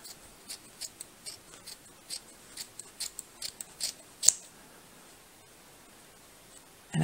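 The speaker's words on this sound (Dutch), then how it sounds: "Als je een goede schaar hebt." Scissors snip through strands of yarn while a knitted hat is trimmed, giving a quick series of crisp, close cuts in an uneven rhythm over near silence, with a louder snip near the end.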